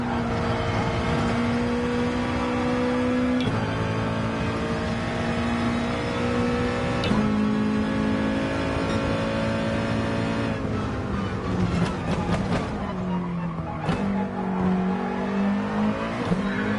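A racing car engine drones loud and continuous, its revs climbing through the gears and dropping sharply under braking into corners, with gear shifts breaking the pitch and a brief tire squeal, heard from the cockpit.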